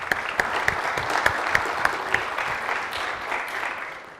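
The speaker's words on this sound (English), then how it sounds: "So please give a round of applause" Conference audience at a developer event claps for an organizer, a modest steady patter of hands in a hall, fairly quiet and heard alone without talk.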